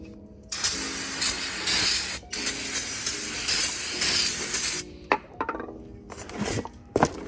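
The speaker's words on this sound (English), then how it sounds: "we're going to want to go ahead and spray everything down with some brake clean as well" Aerosol brake cleaner sprayed onto a new front brake rotor of a 2015-2017 Lexus NX200t, heard as several long, loud hissing bursts separated by brief pauses, followed by a few shorter spurts near the end.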